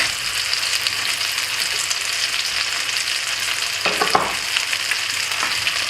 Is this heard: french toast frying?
yes